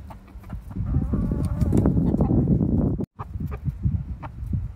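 Hens and a rooster clucking and murmuring close by amid a busy low rustle, with a brief dropout midway before the flock sounds resume.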